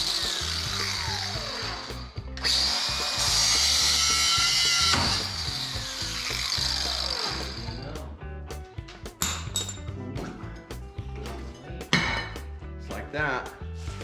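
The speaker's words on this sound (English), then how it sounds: "So I'm gonna go ahead and get the death wheel and cut those off." A cut-off wheel grinds through bent U-bolts on a Jeep CJ7 during a leaf spring change, a loud sustained whine in two long bursts, then scattered clinks and tool knocks.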